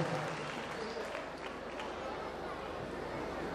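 An audience at a cultural festival's closing ceremony in Shravasti applauds as the agriculture education state minister is welcomed to the stage, a faint, steady, distant clapping wash mixed with crowd murmur.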